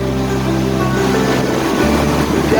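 Water from the Grand River pours over Wilkes Dam in a loud, continuous rushing roar, with a steady low hum running underneath throughout.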